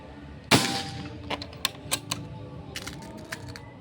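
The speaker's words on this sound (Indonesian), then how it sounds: "Tembakan ketiga ya ini." A single sharp air rifle shot cracks out close by, followed by a few faint clicks and taps.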